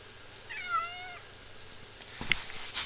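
A cat outdoors in the snow gives a single clear, drawn-out meow near the start, followed by quiet rustling and a soft thump.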